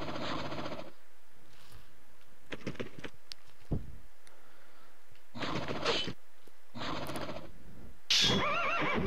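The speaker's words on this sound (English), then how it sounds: "Those are some short, fat little horses." Horses in the video game The Legend of Dragoon neigh and whinny in several loud, separate bursts with short quiet gaps between them, clear and close with no talk.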